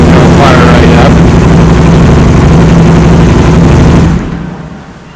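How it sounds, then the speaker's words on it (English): A Can-Am Spyder engine roars loud and close in a steady, rumbling drone, then drops off toward a quieter running sound near the end. "And then this is your starter button here. You just push that button. It'll fire right up."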